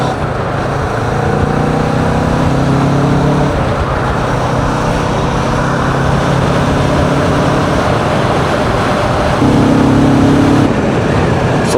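A car cruises on a motorway with a steady, loud road and tyre roar and a constant low engine drone from inside the cabin, rising slightly near the end.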